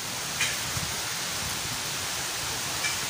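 Steady, soft hiss of rain falling, even and continuous, with a couple of faint drips standing out.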